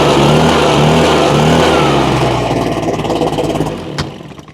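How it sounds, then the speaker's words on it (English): A Husqvarna 150BT backpack blower, just repaired after a fuel leak and electrical fault, roars loudly and steadily at high revs close by, its drone easing slightly before a brief knock near the end. "Let's fire it up again."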